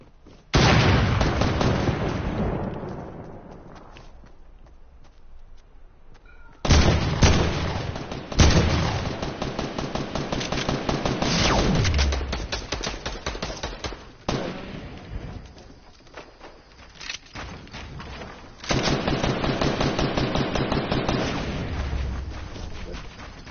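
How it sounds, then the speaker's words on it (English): Rapid bursts of gunfire from the video game Fortnite come in several loud clusters of sharp, crackling shots separated by quieter gaps. "Where these shots coming from?"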